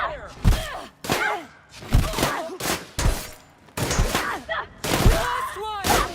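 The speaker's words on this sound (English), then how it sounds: "Open fire!" Gunfire in The Outer Worlds, a firefight of sharp, loud shots and thuds in irregular bursts with short pauses between, mixed with shouting voices.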